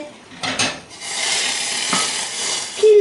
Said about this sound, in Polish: żelatynę zalewamy wrzącą wodą i mieszamy do całkowitego rozpuszczenia